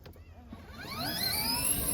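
An upgraded kids' electric Power Wheels ride-on car drives off, its motor whine rising steadily in pitch as it speeds up, close and fairly loud.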